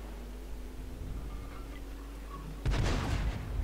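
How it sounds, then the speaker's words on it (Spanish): A single loud cannon blast from a tank in the video game World of Tanks booms suddenly after a quiet stretch of low engine rumble, its echo lingering. "Allá va el disparo."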